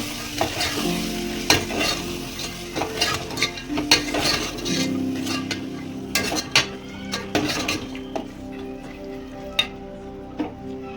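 Sizzling of kokum in hot oil tempering with repeated clinks and scrapes of a spoon stirring against a metal pan, close up.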